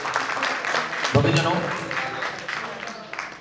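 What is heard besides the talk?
audience clapping loudly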